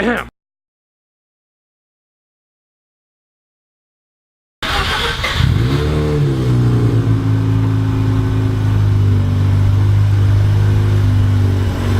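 Car driven to bed in new brake pads: after a silent gap an engine starts and revs up, then holds a steady, loud drone close by.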